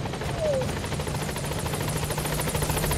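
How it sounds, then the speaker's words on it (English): A landing support helicopter arrives in the game Metal Gear Solid V: The Phantom Pain, its rotor making a steady, loud pulsing thrum throughout, with a brief voice-like sound early on. "A landing support helicopter."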